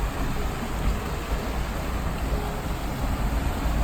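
Water gushes hard from the periodic spring at Afton, Wyoming, a continuous loud, broadband roar of heavy flow, close and unbroken throughout.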